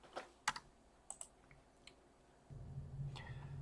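Brief bursts of typing on a computer keyboard while entering text into a social network app's login fields: a few scattered quiet key clicks, soft and close, over low background hum, with no talking.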